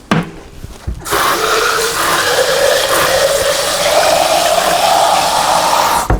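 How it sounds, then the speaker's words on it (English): Tap water runs steadily into a glass jar holding leftover tomato sauce, a continuous rushing pour close by that slowly rises in pitch as the jar fills, with no talk over it. "I'm gonna fill this jar with water."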